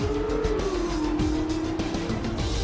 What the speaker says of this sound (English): We've got another car spinning there.